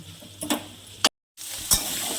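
Soft sizzling with a few sharp scraping stirs of a spatula in a wok frying taro greens with hilsa fish head, brief quiet gap midway, no talking.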